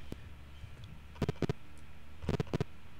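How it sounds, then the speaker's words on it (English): Soft, quick clicking footsteps from the Commander Keen: Marooned on Mars video game, in two short runs of several steps each, over a faint low hum, with no one talking. "Yes, that's the sound of him walking."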